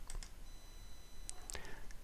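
Computer mouse clicks while a page is added in an online course editor, a few sharp, close clicks spread over two seconds in a quiet room.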